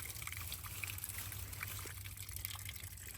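A small old stone fountain in Kos old town, fed by the Hippocrates stream, trickling steadily and faintly at a distance, with light outdoor ambience.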